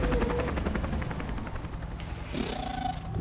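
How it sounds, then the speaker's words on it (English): A helicopter flies overhead in the video game Detroit: Become Human, its rotor producing a loud, steady rhythmic chop that dominates throughout, with other game sounds rising briefly near the end. "Helicopter."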